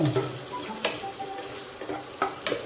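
Ginger sautés in a pan for a catfish in coconut milk dish, giving a soft steady sizzle punctuated by clinking stirring scrapes of a utensil.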